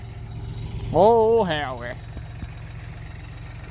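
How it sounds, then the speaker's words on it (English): A small four-wheel-drive Ford tractor idles nearby with a steady low rumble and regular engine pulses, running continuously while someone speaks briefly over it. "The tractor, it's a little four-wheel drive Ford."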